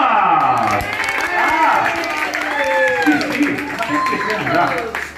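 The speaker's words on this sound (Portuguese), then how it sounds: "Uma salva de palmas!" Guests at a surprise birthday celebration for a husband in São Paulo's east zone clap and cheer, with whooping, sliding voices riding over continuous applause at close range.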